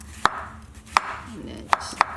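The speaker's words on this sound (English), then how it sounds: "The mushroom you're going to slice very thin." Kitchen knife thinly slicing fresh mushroom on a cutting board, four crisp close chops in an irregular rhythm over soft background noise.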